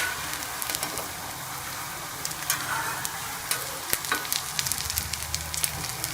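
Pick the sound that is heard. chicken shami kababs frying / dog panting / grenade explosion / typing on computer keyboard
chicken shami kababs frying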